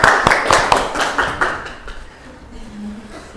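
A classroom of students claps hands together in a short burst of sharp, fairly loud claps that thins out and fades after about two seconds, leaving quiet room sound.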